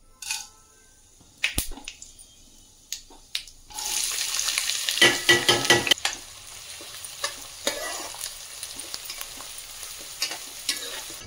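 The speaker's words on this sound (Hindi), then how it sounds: "अभी डाल देती हूँ उसमें लहसुन अदरक का पेस्ट, और इसको भी मैं थोड़ी देर पका लूँगी" Onion and garlic-ginger paste fry in a pan, a steady sizzle punctuated by scraping stirs and clinks of the spoon, close and alone without talk.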